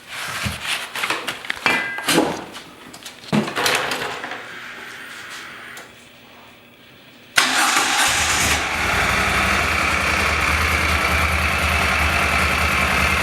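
A 2016 Moto Guzzi Stelvio engine fires up after a few scattered knocks and a short lull, then settles into a loud, steady idle that holds to the end.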